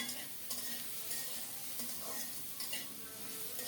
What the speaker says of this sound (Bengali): সব মিলিয়ে অল্প তাপে ভালোভাবে কষিয়ে নিয়েছি